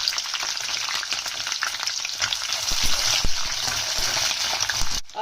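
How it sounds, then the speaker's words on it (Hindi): Chopped onion and capsicum lightly fry in a pan for paneer Manchurian, giving a steady close sizzle with occasional scraping stirs and light metallic clinks. "अब उसके बाद मैं इसे प्याज और शिमला मिर्च को लाइट फ्राई करूंगी।"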